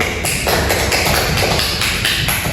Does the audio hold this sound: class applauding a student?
yes